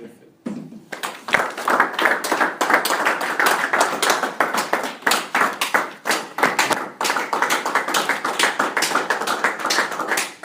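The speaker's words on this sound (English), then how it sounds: "with a warm round of applause, help me welcome Rainchild with his speech titled Water Perfect." A live audience breaks into a warm round of applause welcoming a speaker to the stage, dense overlapping claps starting abruptly and continuing steadily near and loud throughout.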